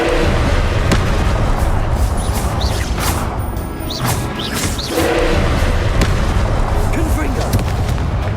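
Confringo blasting spell explosions in Hogwarts Legacy, loud repeated booms and crashing blasts amid dense combat noise, with spoken spell shouts over the top.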